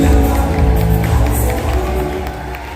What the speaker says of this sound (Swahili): Tafadhali makofi mengi kwa Yesu.